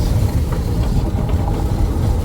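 Steady low rumbling of an electric motorcycle moving over a newly made rough dirt road, an even, continuous rolling noise with no speech.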